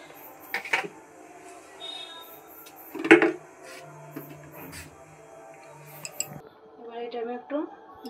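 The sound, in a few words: mixing ingredients with salt in a bowl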